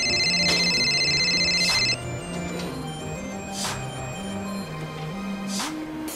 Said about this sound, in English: You're just gonna get a phone call.